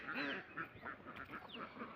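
A flock of farm ducks quacks in a steady run of harsh, overlapping calls at close range, loud and continuous with no talking.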